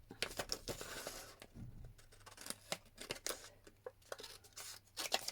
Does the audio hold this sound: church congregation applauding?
no